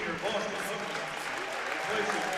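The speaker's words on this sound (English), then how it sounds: "Well-deserved round of applause, standing O from the bench" Applause rises in a high school varsity basketball gym during a sectional final as a player leaves the game, a steady wash of crowd clapping and cheering under an announcer's voice.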